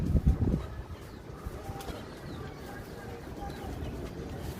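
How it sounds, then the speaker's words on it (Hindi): Soft, low coos of Sialkoti rooftop pigeons burble at the start, close by, then fade into a quiet murmur with faint background noise. "ये सियालकोटी छत वाले कबूतर हैं"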